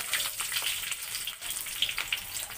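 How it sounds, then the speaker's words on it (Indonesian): Spices sizzle in hot oil with shallots, garlic, bird's eye chillies and dried chillies, giving a close, continuous crackling hiss that stays dense and steady throughout. "Sekarang ni kita goreng rempah kita."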